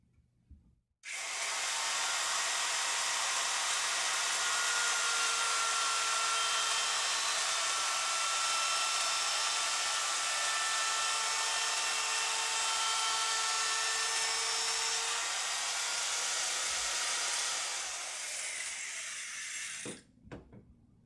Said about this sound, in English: So you have to start the router away from the fingerboard and then you ease it on there.